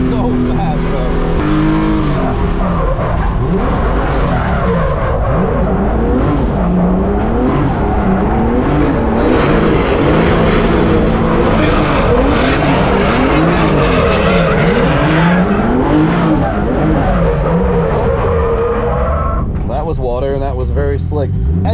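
BMW E36 race car on a track day, engine roaring and revving continuously with rising and falling pitch as it works through corners, tires skidding at times, loud and close, with a voice talking over it.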